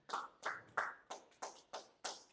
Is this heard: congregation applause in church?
yes